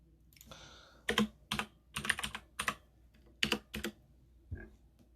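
Close keyboard typing in quick bursts of clacking keystrokes, with short pauses between flurries, in a quiet room.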